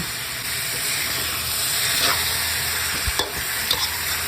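Tomatoes and pork sizzle and stir-fry in an oily pan, a constant close hiss broken by a few sharp utensil scrapes near the end.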